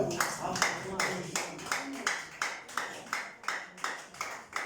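A congregation claps along in a steady, even rhythm of about two claps per second, with a voice talking over the clapping throughout.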